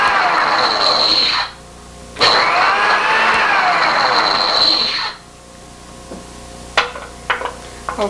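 Kitchen blender pureeing food for a baby, with extra water added, in a 1970s home kitchen; a loud whirring run of about one and a half seconds, a pause, then a longer run of about three seconds, followed by a few clattering knocks.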